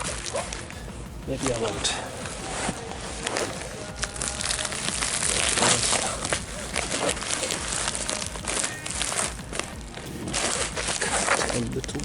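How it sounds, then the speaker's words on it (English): Packaging being torn and crinkled open by hand, with sharp rips and rustling bursts spread across the stretch, close and fairly loud, while someone talks briefly over it. "wonder if I can just tear it open"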